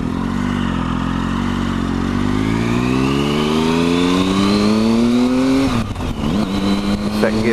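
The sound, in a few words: Triumph Tiger 1050 motorcycle accelerating and shifting gears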